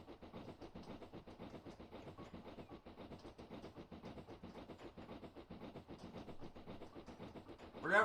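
A simulated Black 5 steam locomotive running at speed in a train simulator game, its steady rhythmic chuffing and rail clatter continuing evenly throughout, with a brief louder burst at the very end.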